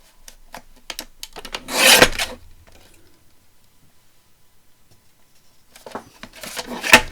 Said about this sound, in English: So I'm going to cut about 1/2 inch off there.